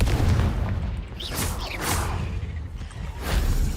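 Confringo blasting spell cast in the Hogwarts Legacy video game: repeated whooshing bursts and deep booms rolling over a loud, rumbling background, with several fiery blasts spread across the stretch.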